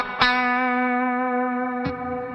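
A cathedral reverb algorithm on a Cusack Music Resound V2 pedal, with a sustained sharp tone whose long ambient wash of harmonics rings and decays; a second attack near the end re-triggers the spacious tail.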